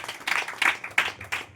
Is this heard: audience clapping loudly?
yes